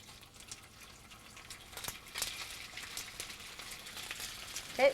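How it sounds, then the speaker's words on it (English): Bacon sizzling and frying in onion-flavored olive oil in a pan, a steady close crackling hiss that swells slightly, with no talk. "Now I'm going to put bacon in."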